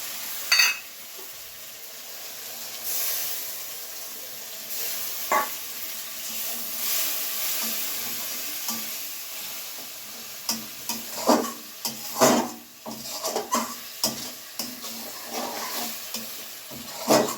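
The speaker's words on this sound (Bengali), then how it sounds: "মশলাগুলো কষাতে থাকবো তেল না ছাড়া পর্যন্ত।" Spice paste is stir-fried in oil for a home-style mutton curry, a soft, continuous sizzle with irregular spatula scrapes and knocks that grow busier and louder toward the end.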